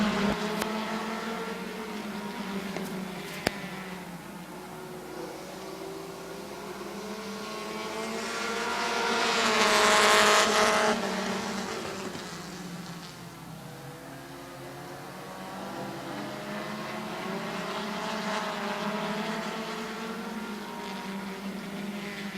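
Race cars battle for the lead at Midvale Speedway, their engines a continuous droning roar that swells as the pack sweeps past around the midpoint, then fades and builds again.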